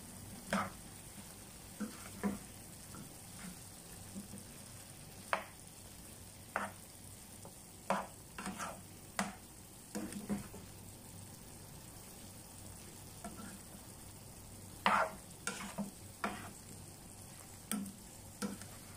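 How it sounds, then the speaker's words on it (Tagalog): Beef with celery and mixed vegetables stirred in a frying pan, with scattered soft scrapes and light taps of a utensil against the pan over a quiet sizzle, fairly faint and irregular. "And then, haluin natin."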